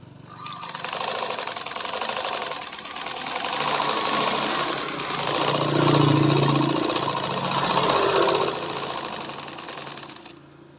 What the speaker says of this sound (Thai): แล้วเดี๋ยวเรามาลองเย็บบอมกันนะครับ